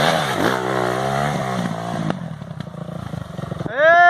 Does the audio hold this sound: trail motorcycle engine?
yes